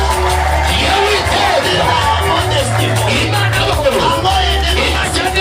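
A church congregation at a pastor's wedding bursts into loud, sustained cheering, with yells and whoops rising over a crowded, reverberant hall.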